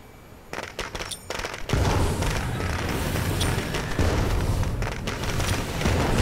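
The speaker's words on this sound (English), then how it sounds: "So, firecracker." In State of Decay 2 gameplay, a firecracker goes off after a few sharp clicks, bursting into a loud, sustained, noisy rush that keeps going to the end.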